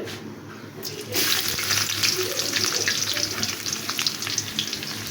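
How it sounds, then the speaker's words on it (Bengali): Chopped onions fry in mustard oil with bay leaf and whole garam masala, a dense, bright sizzle that swells suddenly after a quieter first second and then runs steadily close by, with no talking. "এখন পেঁয়াজটা হালকা একটু বাদামি রং করে ভেজে নিচ্ছি আমি"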